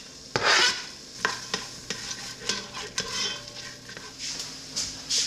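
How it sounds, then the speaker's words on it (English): Onion cooking in a soup pot for a homemade garden vegetable soup gives a soft sizzle, broken by repeated spoon scrapes and clinks against the pot, fairly quiet and close. "we are going to start with an onion, and we are going to go put it in the pot back here and let it cook up."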